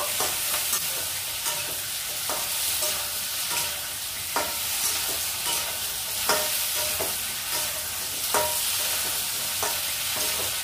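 Cashews and raisins frying together in a pan give a continuous close sizzle, broken by regular sharp scrapes and taps of stirring throughout.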